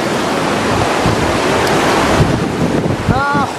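Swollen flood waters surging through a river wadi in Morocco during heavy rains, a loud continuous roaring rush with wind buffeting the microphone throughout and no voices.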